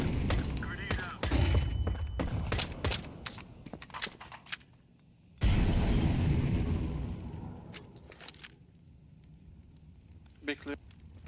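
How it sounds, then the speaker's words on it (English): Grenade explosion and gunfire in Counter-Strike, with rapid rifle shots and bursts up front, then a loud booming blast that slowly rumbles away, followed by a few scattered distant shots, with voices talking over the action. "Grenade out."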